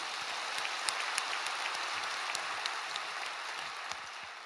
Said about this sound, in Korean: 우리 하나님께 우리 영광의 박수 올려드립시다.